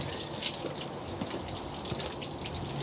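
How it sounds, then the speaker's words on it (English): Engine coolant splashing out as the header tank is lifted from a Range Rover Sport, a faint steady watery trickle and spatter lasting a few seconds, no talk. "Tank out, coolant everywhere."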